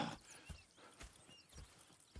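Horses in the Red Dead Redemption 2 video game, heard as a few soft, quiet hoof thuds in a slow, uneven walking rhythm.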